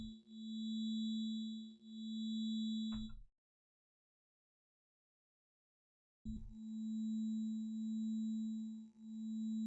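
A synthesizer phaser set to heavy feedback produces a loud steady tone with shimmering, sweeping overtones. It stops abruptly for about three seconds of silence, then resumes with the same pulsing sweep.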